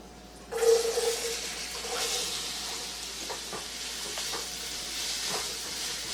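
Finely chopped onion dropped into hot oil with asafoetida for Nepali dahi aalu, bursting into a sudden loud sizzle that settles into a steady close hiss with faint spoon clicks.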